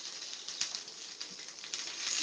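Rinsed dried red chillies frying in oil, a faint, steady hiss with scattered small crackles and spits, close by and without talk.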